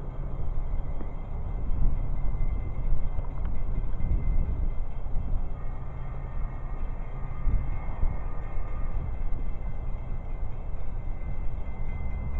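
A train passes while a railfan watches outdoors: a steady low rumble of wheels and cars rolls on without a break, loud and close throughout, with no talking.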